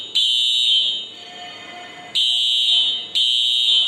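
An industrial fire alarm triggered from a manual call point sounds a loud, steady high-pitched electronic tone in three long bursts with brief dips between them, alone with no talk.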